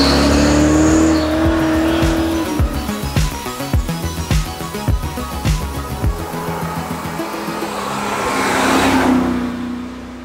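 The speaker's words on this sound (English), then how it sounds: "it makes a noise and a feel that's different from every other engine" A 1987 Mercedes-Benz AMG Hammer Wagon with a six-liter engine revs hard, rising then dropping through repeated sharp throttle blips before a long surging acceleration, loud and close with no talk.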